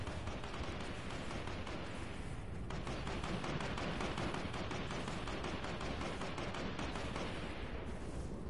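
Dense, continuous gunfire in a battle royale video game, rapid overlapping shots and bursts that fill the whole stretch without pause, loud and close.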